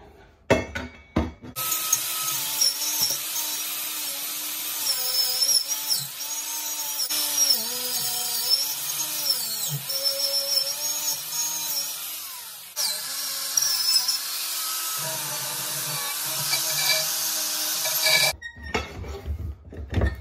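A power tool grinds rust off a metal part of a racing lawnmower in a workshop, running loud and continuous with shifting pitch for most of the stretch before cutting off near the end.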